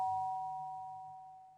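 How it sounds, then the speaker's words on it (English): A single doorbell tone rings once indoors and decays slowly into quiet, heard alone and at low level. "Was that the doorbell?"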